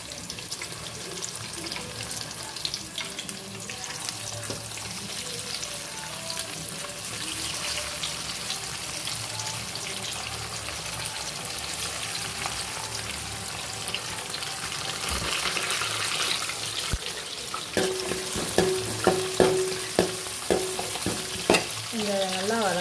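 Onions and spices for a home-style fish curry sauté in a pan with a dense, steady sizzle and stirring scrapes, which turn louder and more clattery near the end, with no talking.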